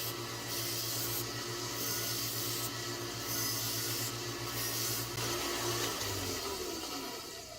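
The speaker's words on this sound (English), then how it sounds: "Just polishing it up" A knife blade is polished on a 1x30 belt grinder fitted with a leather belt, giving a steady motor hum under a loud, rough rubbing hiss that rises and falls in repeated passes, close up.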